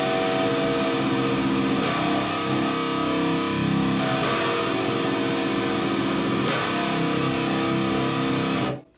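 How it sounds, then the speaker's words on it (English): Heavily distorted electric 7-string guitar plays choppy power-chord patterns, rocking back and forth between two low strings in a steady, loud, dense stream with brief accented hits, ending in a sudden cutoff. "I'm doing some choppy patterns, some choppy stuff in between here, kind of going back and forth a lot between those 2 strings"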